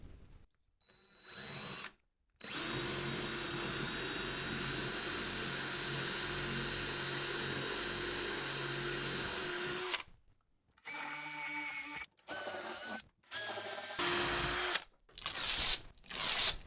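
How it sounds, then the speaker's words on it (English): A power drill bores pilot holes into a wall for a TV mount: a long steady whine of drilling, then several short bursts separated by silences. "I'll drill all the way in on my marks."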